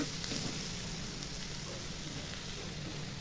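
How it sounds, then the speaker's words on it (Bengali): Onions frying in hot oil in a home kitchen: a steady, dense sizzle and crackle that holds at an even level throughout, with no voices. "এখন এই তেলের মধ্যে আমি পেঁয়াজ কিছু ঢেলে দেবো পেঁয়াজটা একটু ভেজে নিব"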